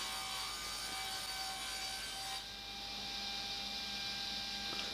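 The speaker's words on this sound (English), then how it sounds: "here I'm cutting the plywood up for the platforms" Panel saw cutting plywood, a steady close rasping stroke sound that shifts character midway as the cut continues.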